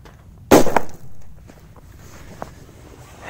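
A P100 firecracker detonates on ice with one sharp, loud bang and a short crackling tail, followed by quiet outdoor ambience and a faint later tick.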